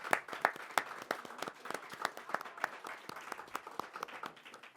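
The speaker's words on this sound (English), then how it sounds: "Let's give Utica a round of applause." Sparse audience applause at a state reparations commission public hearing, with individual claps clearly distinct, moderately faint and slightly distant, continuing irregularly for several seconds.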